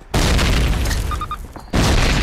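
Two heavy booms in the video game Call of Duty: a loud explosion bursts in, rumbles for over a second, drops briefly, then a second blast hits just as hard.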